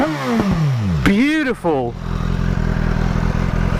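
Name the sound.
2019 BMW S1000XR motorcycle engine revving, stock exhaust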